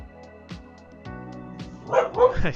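A dog barks several times in short, sharp, close yips spaced about half a second apart, then whimpers and yelps more loudly toward the end.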